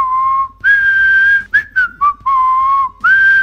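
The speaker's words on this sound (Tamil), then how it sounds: "ஒரு விசில் சத்தம் கேட்ட உடனே" A person whistles a short tune, clear and close, with held pitched notes broken by brief pauses and a few quick chirps.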